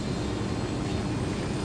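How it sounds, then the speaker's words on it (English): In the video game Ghost Recon: Wildlands, a helicopter's engine and rotors give a dense, steady roar, close and loud throughout with no talking. "So we're going to grab this helicopter and we're going to head on out of here."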